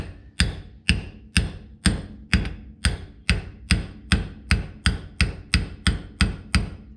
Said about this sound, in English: So I'm going to gently tap it with this socket and hope that it comes out easily.